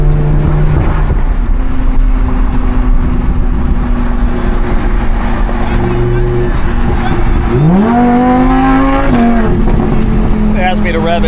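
A car engine drones loudly and close throughout, then revs up sharply with a rising then falling pitch before settling back, while a person talks over it.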